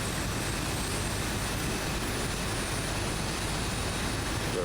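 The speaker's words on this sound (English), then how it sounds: "As the engine's coming alive here for engine number 2." Steady, loud engine roar from a Boeing 737-800 jet spooling up in the X-Plane 11 flight simulator, a broadband whoosh holding constant throughout with no talk over it.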